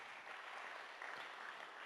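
Quiet, steady applause from an audience at a community hearing in Hobbema, Alberta, a soft even wash of clapping lasting about two seconds with no voices over it.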